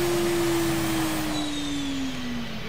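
A vehicle engine at full throttle in the video game Borderlands 2, a steady droning whine that slowly drops in pitch as it loses power, loud and continuous with no talk.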